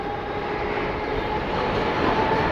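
A train arriving at a station gives a steady broadband rumble that holds for the whole stretch and swells slightly toward the end, with no voices.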